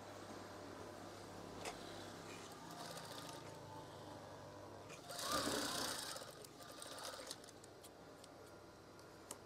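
A sewing machine runs while stitching a folded fabric curtain panel, a steady mechanical whir with ticking that swells into a louder burst of stitching midway, then settles back to a quieter hum.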